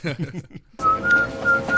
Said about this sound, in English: He usually whistles this when he's going to go rob somebody.